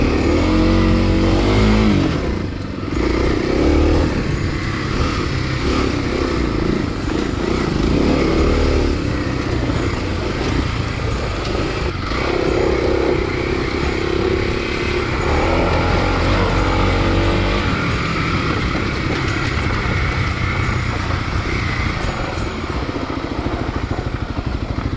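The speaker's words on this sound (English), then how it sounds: "So I'm riding with a few legit dirt bikes." Several dirt bikes ride a single-track trail, engines loud and close throughout, with steady revving and throttle changes and no break.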